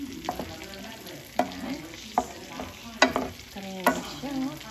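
Chicken curry is stirred in a frying pan, with a spoon scraping and tapping the pan every second or so over a soft sizzle, close by, with no talk.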